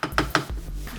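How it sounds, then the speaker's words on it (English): Red beans and rice stirred in a pot, a few quick scraping clinks of a utensil against the pot close up in a short burst, then a low steady background. "Just give it a little stir, not too much."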